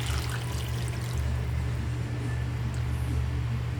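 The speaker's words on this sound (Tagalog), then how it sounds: "lalagyan natin ng tubig para maluto ang chicken" Water pours steadily into a pot for chicken curry, a continuous close wash of liquid noise with a low rumble underneath.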